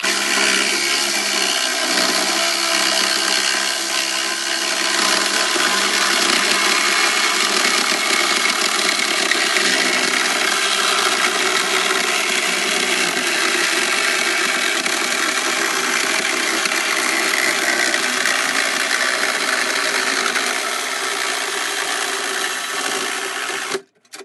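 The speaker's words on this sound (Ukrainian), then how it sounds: "Трубу перерізати. Якщо воно переріже, то це просто ідеальна пилка." A Sturmax RSM8812CL cordless 12V reciprocating saw cuts through a pipe, a loud, steady buzzing rasp that runs nonstop for over twenty seconds and cuts off abruptly at the end, with no talking.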